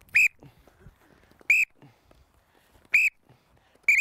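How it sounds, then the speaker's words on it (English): Short shrill blasts of a coach's whistle during a camogie drill, four evenly spaced sharp toots about every second and a half, loud and close over faint background movement and scuffing. "every time you hear the whistle, girls, just do that"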